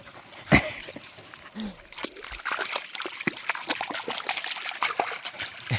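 Pet dogs named Charlie and Kunjan bathing and swimming in water, splashing and sloshing in irregular bursts with one sharper splash early on, close by, while a person's voice is faintly heard at times.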